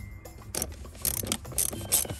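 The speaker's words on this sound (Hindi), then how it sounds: "तो ये हमने रैचर जो है तैयार कर लिया है, इसमें ये देखें हम बिट लगाएंगे और इनको खोलना शुरू कर देंगे" Ratchet fitted with a T25 bit loosening screws on the air filter box of a VW Golf 7 TDI, giving short bursts of clicking at close range, about four quick clusters with brief pauses between.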